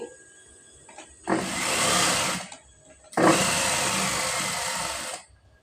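An electric sewing machine stitching a folded cloth border, running in two steady whirring bursts of about a second and two seconds, separated by a short pause.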